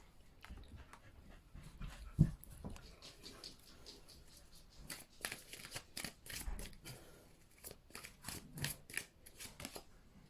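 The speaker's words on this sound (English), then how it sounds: "if you can hear anything, it's just my dog" A dog panting and moving about indoors, with soft irregular rustles and patters that get denser in the second half, under a faint card-shuffling sound.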